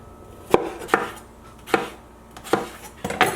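A knife slicing cucumber into thin half moons on a cutting board, six crisp separate chops spaced unevenly, close and clear with nothing else around them.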